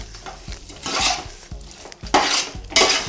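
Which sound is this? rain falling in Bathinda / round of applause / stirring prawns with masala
stirring prawns with masala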